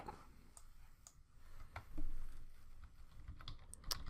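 A file name being typed on a computer keyboard while saving a presentation, heard as scattered soft key taps and clicks at an uneven pace, close but faint over a low room hiss, with no talking.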